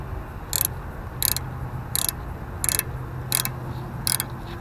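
A ratchet tightens the top bolt on a Woods RM990 mower deck. About six short, evenly spaced clicking bursts arrive roughly every 0.7 seconds, close and moderately loud over low background noise.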